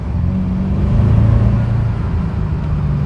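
Audi A8 V8 TDI diesel with a remapped engine pulling hard under acceleration, a steady loud low engine rumble with rising drone heard from inside the car, no talking.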